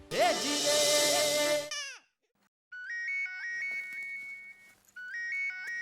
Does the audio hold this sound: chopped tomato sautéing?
no